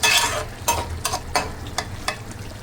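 A curry of ridge gourd, potato and small shrimp bubbles and sizzles in a pot, with repeated bright stirring scrapes over a low rumbling fry, close up and with no talking.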